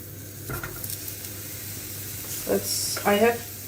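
Aubergine slices frying in a pan, a steady low sizzle with brief spatters, while a person talks over it near the end.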